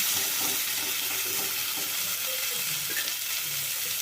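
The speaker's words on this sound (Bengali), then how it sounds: "দিয়ে দেব 1/4 টিস্পুন ধনে গুঁড়ো, একটুখানি নাড়াচাড়া করে নেব" Coriander powder and spices fry in hot oil for a Bengali fish curry with potato and cauliflower while being stirred in the pan. A continuous close sizzle mixes with soft scraping and shuffling from the stirring.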